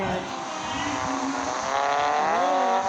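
Engine of a car in a parking game revs steadily and loud, with a rising whine and tire squeal toward the end, continuous and close.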